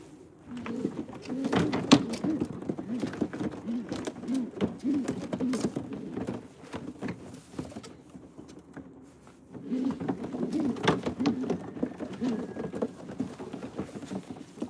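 Soft racing pigeon cooing and fluttering movement throughout, in two denser bursts separated by a quieter stretch, close and moderately loud.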